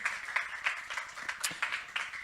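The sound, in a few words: congregation clapping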